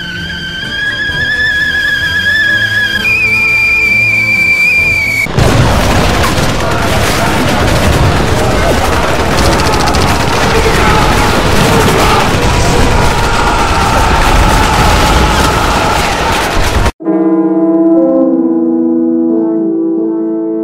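Sustained MG42 machine gun fire in a comedic war scene, a loud, dense roar of rapid shots lasting many seconds, framed by music before and after.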